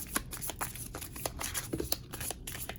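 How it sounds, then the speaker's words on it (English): Tarot cards being shuffled during a reading, a steady run of soft papery riffles and flicks close by with no voices. "One more shuffle, please."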